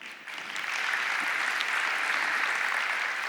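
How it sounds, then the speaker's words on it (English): A conference audience at a blockchain event applauds, sustained dense clapping that swells quickly and holds steady at full strength with no voices over it. "Let's give ourselves a round of applause"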